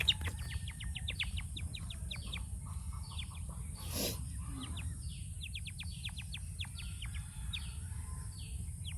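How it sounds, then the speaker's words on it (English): Quail call near a trap outdoors, sending out repeated quick chirping notes that sound close, with a steady low rumble of wind or background noise underneath throughout. "Quail bird."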